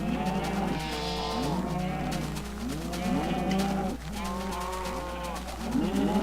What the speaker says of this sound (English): as you can hear by all those cows, I've done a bit of construction in the barn